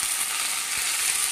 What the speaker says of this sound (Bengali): আদাটাকে একটু ভেজে নিলাম